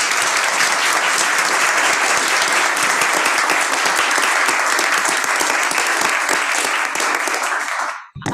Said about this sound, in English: I'd like to give everybody one more round of applause.